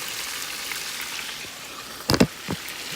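Chicken pieces browning in hot oil for Jamaican brown stew chicken, a steady low sizzle and crackle throughout with a couple of louder spitting pops near the end.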